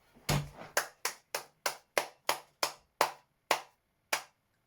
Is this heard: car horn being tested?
no